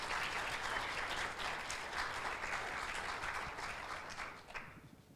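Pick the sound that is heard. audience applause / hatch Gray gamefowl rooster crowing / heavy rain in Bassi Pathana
audience applause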